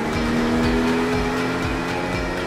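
A car engine drones steadily close by as the vehicle pulls away and gathers speed, a continuous rumbling hum with no talk over it.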